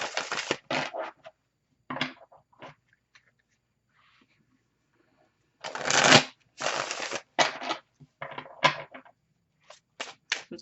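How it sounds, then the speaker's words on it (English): Tarot cards shuffled in bursts of crisp riffling and slapping, loud and close, with short pauses and a quiet stretch in the middle before several quick shuffles follow. "I'm just going to pull a few cards looking at the situation."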